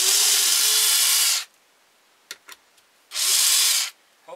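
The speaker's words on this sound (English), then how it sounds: "So anyway, you unscrew those two screws, and then this piece will slide right out." Power drill unscrewing screws from the back of a carved wooden ventriloquist dummy head: two loud, close whirring runs of about a second and a half each, separated by a few sharp clicks and knocks.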